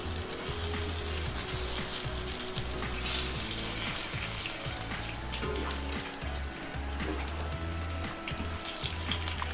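Chorizo fries in a cast iron pan, rendering its oil for a chicken and chorizo paella, with a steady dense sizzle and crackle at close range throughout, and no talking.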